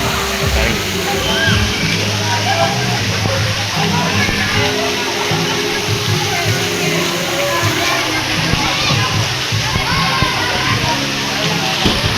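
Water splashes and sloshes continuously as a person jumps in at a beach outing in Subic, a busy roiling wash of spray heard close and loud, with voices in the background.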